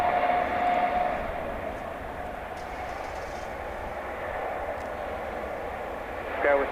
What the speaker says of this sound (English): for the takeoff of this Qantas flight to Melbourne